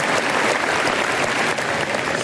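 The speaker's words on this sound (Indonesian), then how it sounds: "Tepuk tangan buat dia." Thick, loud applause from a seminar audience sustains evenly throughout, a continuous wash of many hands clapping together for a man being introduced.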